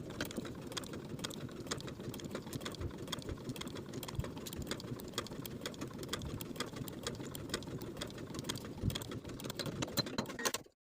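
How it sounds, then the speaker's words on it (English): A sewing machine stitching along marked lines on a linen shirt sleeve, backstitching at both ends, running as a steady fast continuous whir with dense needle ticks for about ten seconds and stopping at the end, alone and fairly quiet. "Now I'm going to sew along my transferred stitching lines, backstitching at both points to secure."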